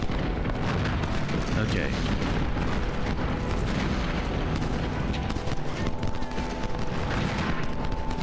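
Troops fire musket volleys in the Civil War strategy game Ultimate General: Civil War, at the Battle of Antietam: dense, continuous crackling gunfire and booms with someone talking briefly over the din.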